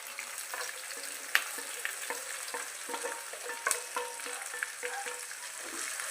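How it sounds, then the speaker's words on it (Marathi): Finely chopped onions and red chillies frying in a pan for an aloo-matar curry, a constant soft sizzle with scattered light scrapes and one or two sharper clinks, close but fairly quiet, no voices. "कांदा गोल्डन फ्राय होतो आपण परतून घेऊ।"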